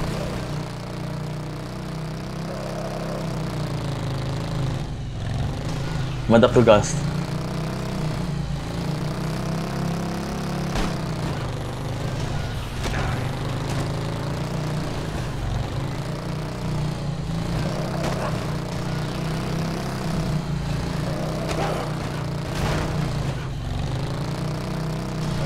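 A motorcycle engine in Dead Rising 3 runs steadily at a low, even idle-like drone, with a faint mechanical flutter throughout and a voice speaking briefly over it.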